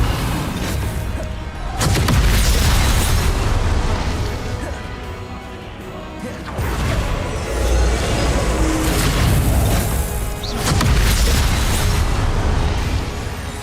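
Heavy blasts from a Repulsor spell in Hogwarts Legacy, loud crashing booms in repeated bursts amid chaotic combat noise, close and dense, with a voice shouting over the action.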